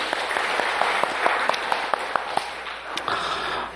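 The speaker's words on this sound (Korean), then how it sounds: "박수 한번 쳐드립시다." A church congregation applauds the choir after a hymn, a short burst of dense clapping with a few sharper claps standing out, steady and fairly loud throughout.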